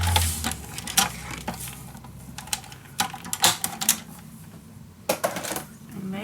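Paper pieces being cut for a mini album, with sharp, irregular clicks and snips of the cutting tool scattered through the quiet, close to the listener.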